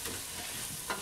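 Onion frying in a pan, a steady close sizzle running through the short moment with a brief stir or spatter near the end and no voices.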